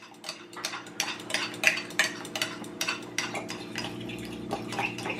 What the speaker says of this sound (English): So stir this in really well.